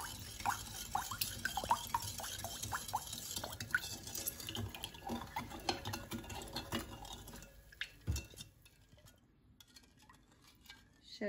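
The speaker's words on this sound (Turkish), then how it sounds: "İyice şekerin erimesini için karıştıracağım sürekli." Metal spoon clinking and scraping against a pot while sugar and water syrup is stirred, with irregular close-up knocks and faint liquid swirling that thins out toward the end.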